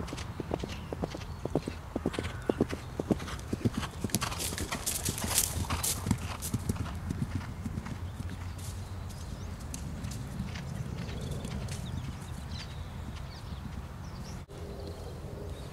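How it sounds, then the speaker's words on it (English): A horse cantering cross country, its rhythmic hoofbeats drumming steadily and fairly close for the whole stretch, with a few brighter knocks early on and no talking. "a bit more of a cross country canter"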